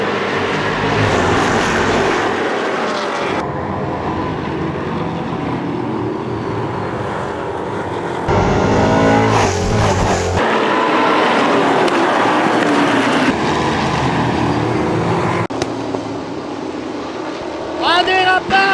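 Race cars roar off together at the start of a 125-lap oval race opening the season, a loud sustained engine drone that swells and shifts, with a commentator talking over it throughout.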